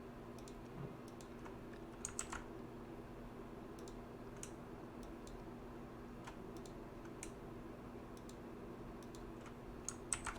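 Computer keyboard keys pressed for a Ctrl+G grouping shortcut in graphics software: faint, sparse clicks and taps scattered over a quiet room hiss, with a couple of slightly louder presses.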